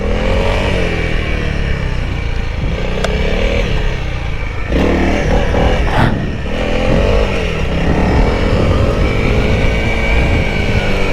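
Honda CRF300L motorcycle ridden at a steady pace, its engine droning loud and close throughout, with wind rush and brief throttle surges.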